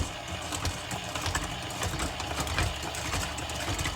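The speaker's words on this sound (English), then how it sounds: "I'm going to put the dough hook onto my machine. And I'm going to mix it for a little bit here." Stand mixer fitted with a dough hook churning pizza dough with oil and salt, a steady motor hum with a low rhythmic knocking throughout, close and fairly loud, no talking.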